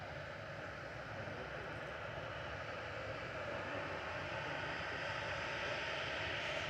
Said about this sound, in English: This is Royal Air Maroc flight 819 back to Casablanca, 737-800, CN ROB.